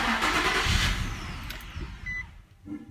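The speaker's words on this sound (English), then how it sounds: "Now go ahead and start the car." An Infiniti G35 or Nissan 350Z cranks and fires after fuel pump work, a short burst of close starter and engine noise that quickly fades, followed by a brief electronic tone and quiet.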